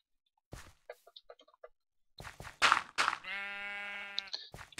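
Sheep bleat in a video game, with a few soft clicks and game noises first, then a loud, wavering bleat near the end amid other short animal calls.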